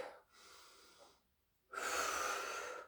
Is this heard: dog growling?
no